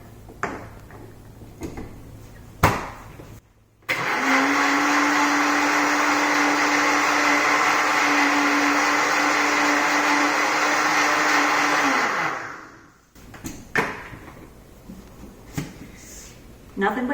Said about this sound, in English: Plug in your blender.